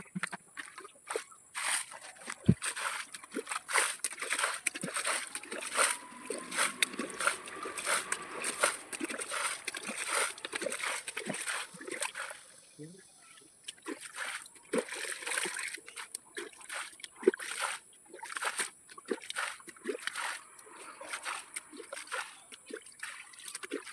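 Water splashes and trickles repeatedly as it is scooped out of a spotted catfish pond during cleaning, with irregular sloshes and drips at moderate distance and occasional faint voices.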